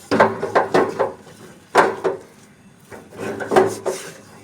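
A spoon works a semolina and potato mixture in a bowl for potato semolina bites, giving soft, close scraping and rubbing strokes in irregular bursts with short pauses between them.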